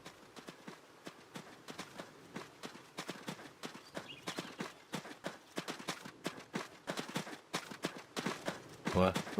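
Video game horse hooves clip-clop steadily on hard ground, a brisk, even rhythm of many close, crisp knocks that grows slightly louder toward the end.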